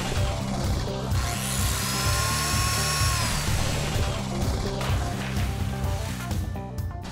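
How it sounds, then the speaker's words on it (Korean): A loud, continuous electric chainsaw whine in a cartoon, with a steady motor drone and rising tonal pitch, grinding through a sea monster's tentacle close by. "폴리는 전기톱으로 괴물 문어의 다리를 잘랐어요."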